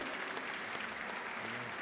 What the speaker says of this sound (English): And please give Mr. Sakamoto and José Luis a big round of applause as they're both joining me